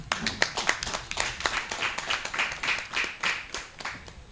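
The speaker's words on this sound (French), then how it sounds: "Il faut l'applaudir pour moi une fois." Audience at a festival workshop clapping, distinct individual claps in a fairly quick, uneven rhythm from a modest group, close and clear.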